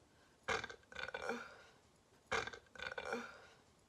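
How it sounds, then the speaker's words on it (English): Two pairs of loud, throaty burps, each pair a sharp belch followed by a shorter second one about half a second later, close and clear against a quiet background. "It'll make you burp."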